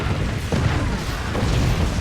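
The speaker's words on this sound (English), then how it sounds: "Oh, those are two cannons." Cannons firing in the Forts video game, heavy booming blasts merging into a dense, rumbling roar of battle that stays loud and unbroken throughout.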